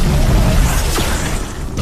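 A loud, rumbling explosion from a clash of powers in an animated fight booms low and heavy, with a brief descending whoosh cutting through the roar as it fades.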